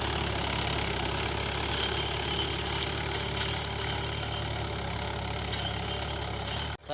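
A tractor engine running in a grassy farm field, a steady close mechanical idle with a low knocking throb that continues unbroken, then cuts off abruptly at the very end.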